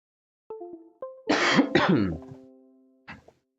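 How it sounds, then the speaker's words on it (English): A person clears their throat and coughs a few times up close, a harsh rasping burst in the middle with quieter throat sounds around it. "Sorry if I'm coughing too much."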